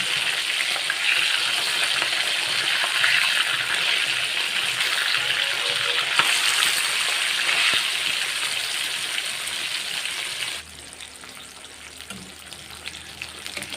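Fish pieces fry in hot oil in a pan for a mustard-seed fish curry, giving a steady, dense sizzle that runs on without a break, then drops to a quieter crackle near the end. No voices.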